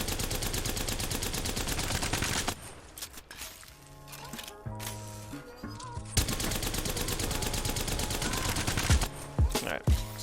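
Rapid automatic gunfire from a weapon in Apex Legends, sustained bursts with short pauses, loud and close, over a backdrop of game music and effects.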